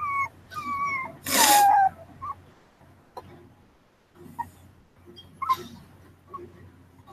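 A puppy whimpers and yips in short, high, wavering cries, with one sharp louder yelp, spaced by quiet gaps indoors and heard close.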